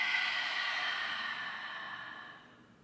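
A long, soft exhale during an advanced-level exercise class, a breathy hiss fading out over a few seconds, close and quiet with no talk.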